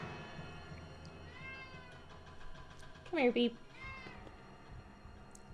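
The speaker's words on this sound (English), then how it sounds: "He's meowing because he wants food." A cat meows in the Nancy Drew game The Final Scene, a couple of close, drawn-out meows heard over soft background music, with a person speaking briefly nearby.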